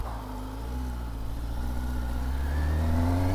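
A 2024 Kawasaki Ninja ZX-10R sport bike engine pulls hard through its mid-range, its steady drone rising in pitch as it accelerates. The sound is loud and continuous, with no voices.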